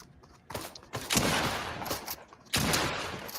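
Video game gunfire in Fortnite: loud, close bursts of rapid shots in three volleys separated by short gaps, sharp and dense.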